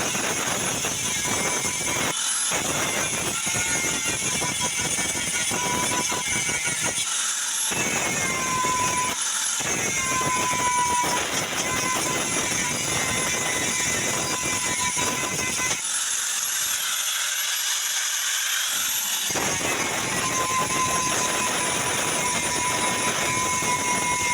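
An electric grinder levels a metal rice cooker part during repair, a loud harsh whining grind with rising and falling pitch, interrupted by brief pauses where the tool lifts off, no voices.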